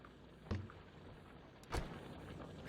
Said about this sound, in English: I like the sound of the car when you're getting in the trunk.